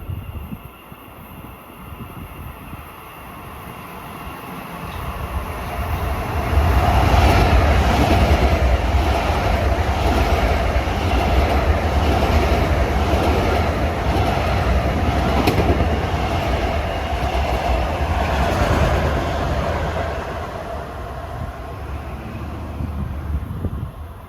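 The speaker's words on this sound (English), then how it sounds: "approaching at 6:50 as the sun is going down, train 2078 from Penn Station to Ronkonkoma, east on number 1" A Long Island Rail Road train, number 2078 from Penn Station to Ronkonkoma, comes in on an elevated triple-track station at sunset, its steady rumble and wheel clatter building loudly and holding for many seconds before easing off.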